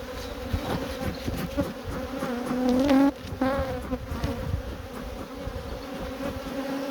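A large honeybee colony hums in a dense, steady drone, close up and continuous, with individual bees buzzing past over the constant swarm noise.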